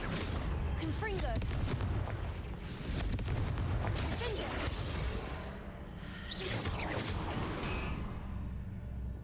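Blasts from the Confringo fire spell in Hogwarts Legacy on Switch 2, with heavy booming bursts and whooshes repeating over a continuous loud rumbling game soundscape.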